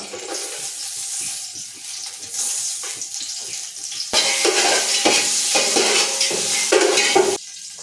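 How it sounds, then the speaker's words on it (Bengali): Bay leaves and dried red chillies spitting in hot white oil in a deep cooking pot for chicken biryani, a loud continuous sizzle with scraping stir strokes that swells louder halfway through. "আর এই ডেচকির উপরে আমরা দিয়ে দেবো পরিমাণ মতো সাদা তেল সাদা তেল গোটা তেজপাতা আর কিছু শুকনো লঙ্কা"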